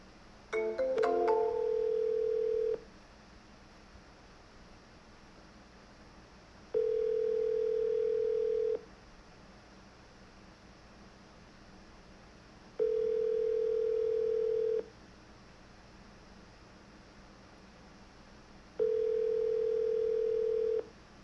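An outgoing phone call ringing unanswered, four long even ring tones separated by equal pauses of several seconds, clear and moderately loud over quiet line hiss, with no voices.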